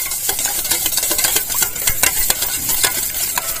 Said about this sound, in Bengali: আমি একটা পাত্র নিয়েছি, তার মধ্যে একটা ডিম ফাটিয়ে নেব। ডিমটা ভালো করে ফেটিয়ে নেব।